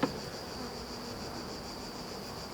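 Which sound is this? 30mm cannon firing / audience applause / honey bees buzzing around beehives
honey bees buzzing around beehives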